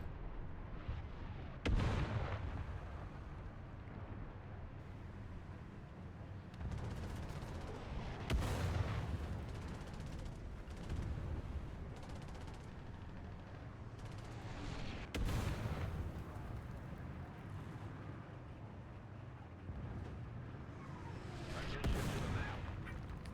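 Artillery shells thump and boom repeatedly across a tank battle video game, with several heavy impacts standing out above a constant low rumble of engines and distant gunfire.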